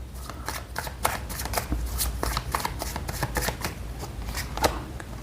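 Tarot cards being shuffled by hand, a rapid, close, continuous riffle of crisp card slaps and flutters at a steady pace, with no speech.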